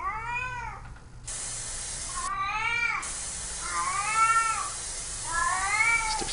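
Caged cats meowing, several drawn-out wavering cries in turn with brief gaps, fairly close and clear over a steady hissing background noise.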